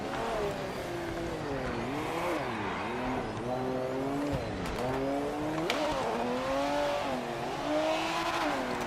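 A race car engine in a racing video game revs and climbs through second gear, its pitch rising and falling in repeated sweeps, loud and continuous throughout.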